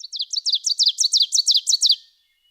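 An ovenbird sings in a forest: a clear, bright series of about a dozen quick, rapidly repeated two-note phrases that build steadily, then stop abruptly, heard alone with no other sound.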